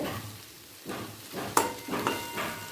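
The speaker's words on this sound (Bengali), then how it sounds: "কেটে রাখা আলুটা পেঁয়াজের সাথে ভালো করে মিশিয়ে নেব" Potatoes and onions fry in a pan for a potato curry, a soft low sizzle with a few brief spoon scrapes and knocks as the mixture is stirred, quiet and close.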